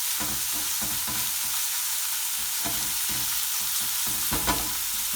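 Onions frying in a pan for a chicken masala give a constant close sizzle, with a spoon stirring and scraping at intervals and a louder knock near the end, no voices.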